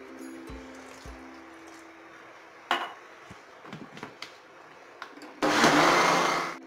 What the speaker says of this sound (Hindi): और फिर से मिक्सी चलाएंगे।